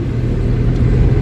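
A car being driven on a morning trip in Pune, a brief, steady, loud low hum of engine and road noise from inside the vehicle, with no voices.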